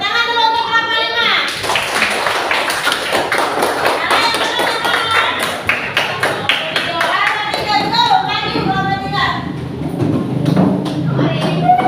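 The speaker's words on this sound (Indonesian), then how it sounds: "tepuk tangan dulu untuk kelompok 5" A school class claps for a student group, scattered hands clapping and tapping nearby while children and a teacher talk over it.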